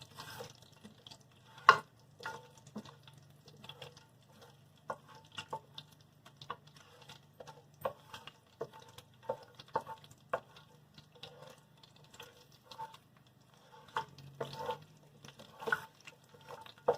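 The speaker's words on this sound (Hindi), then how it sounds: "अब इसके अंदर मैं ये बादाम शामिल कर देती हूँ। ये 50 सेकंड के लिए फ्राई होंगे।" Almonds fry in a pan for a Badami chicken korma, with a faint sizzle and scattered clinks and scrapes as they are stirred. The sounds come in irregular bursts over a quiet background with no talking.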